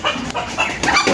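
Desi hens cluck in a short run of soft, close clucks at a backyard coop, a few quick calls over about a second.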